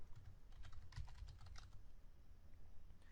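Code being typed on a computer keyboard in SQL Developer, a quiet run of rapid, irregular key clicks that fades into near silence toward the end.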